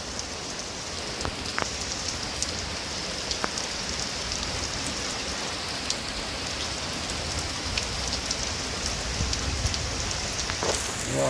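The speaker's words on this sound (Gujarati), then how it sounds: "પવન સાથે વરસાદ આવ્યો છે" Wind-driven rain falls hard at night in a storm, a steady roaring patter of drops on surfaces with scattered sharper splashes, constant and unbroken without voices.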